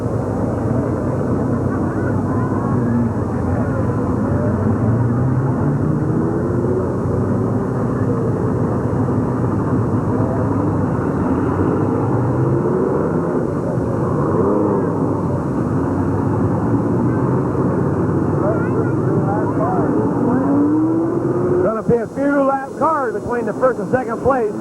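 Race cars circling Midvale Speedway in 1985, a sustained engine roar with rising and falling drone as the pack passes, steady and loud for the whole stretch, with commentators' voices layered over it.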